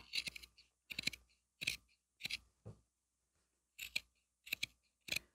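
Scissors snip through material in a sewing project, about seven or eight short crisp cuts in irregular bursts, close and fairly quiet, with brief silences between them.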